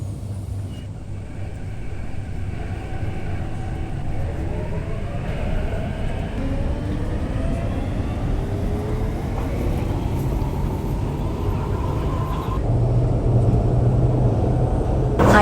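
An MTR C-Train runs between Choi Hung and Central on Hong Kong's metro, a steady loud rumble of wheels on rail with low motor hum and rising whine tones that climbs gradually, ending in a sustained low drone.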